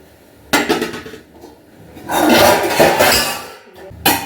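A big metal cooking pot is lifted and set down on a stand in a home kitchen during festival cleaning, with a loud clank, scraping and clattering of vessels, then another sharp knock at the end.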